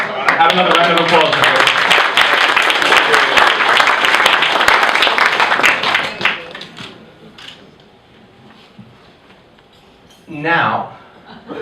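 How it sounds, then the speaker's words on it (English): Wedding guests at a father's speech break into loud, dense applause that lasts about six seconds and then fades, followed by quiet murmurs and a nearby voice. "Have another round of applause."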